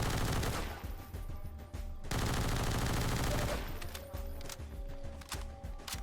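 An MP5 submachine gun in a modded Half-Life 2 game fires long, loud, rapid automatic bursts, with a short break before a second stretch of fire and a softer tail of shots after it.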